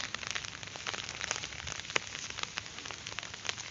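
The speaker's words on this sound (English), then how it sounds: "this is the rainy season and I forgot my umbrella" Rain falls in the rainy season in India, a faint, steady patter with scattered sharper drops tapping nearby surfaces.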